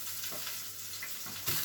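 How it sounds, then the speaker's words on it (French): Burger buns toasting in a frying pan make a quiet, steady sizzle with a faint hiss and a small soft knock near the end, with no voices. "les pains sont un petit peu grillés à la poêle"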